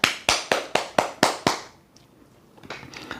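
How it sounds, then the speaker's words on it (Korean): A university class claps in unison, seven sharp, evenly spaced claps ringing in a room, followed by quieter scattered sounds and faint activity afterward. "우리 박서연 조장님을 비롯한 전유미 학생까지 6명 A뿔 받으시길 바라면서 박수!"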